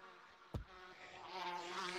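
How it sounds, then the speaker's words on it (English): Bees buzz in the Gorilla Tag VR game, a steady droning hum broken by one sharp thump, then the buzzing swells louder toward the end. "At least the bees don't get faster."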